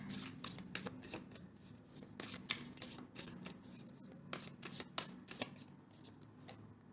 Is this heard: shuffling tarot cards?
yes